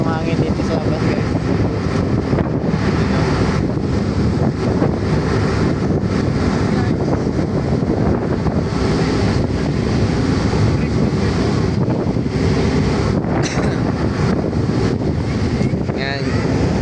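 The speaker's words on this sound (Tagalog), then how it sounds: "Malakas yung hangin dito sa labas guys." Strong wind roars steadily outdoors on a ship's deck, a loud, constant broadband rush buffeting the microphone with heavy low rumble and no letup throughout.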